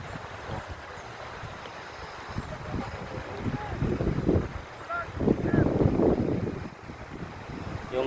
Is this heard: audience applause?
no